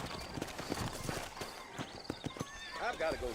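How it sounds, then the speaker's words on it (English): Horses in the Red Dead Redemption video game clip-clop on hooves and give a neigh near the end, close by, with a voice talking over them. "I got the horses saddled up and ready out front."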